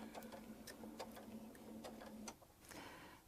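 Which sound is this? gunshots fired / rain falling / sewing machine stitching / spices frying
sewing machine stitching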